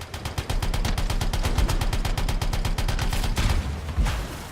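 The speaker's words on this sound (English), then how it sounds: "They're taking fire!" Sustained automatic gunfire in the video game Anthem, a fast, even rhythm of loud close shots for about three seconds, then a few scattered blasts.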